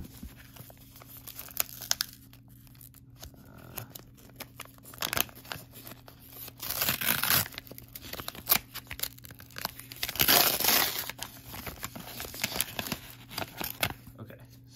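Mailed package of NFL football cards being unwrapped: bursts of crinkling plastic and tearing tape, loudest around the middle and toward the end, with close speech in between.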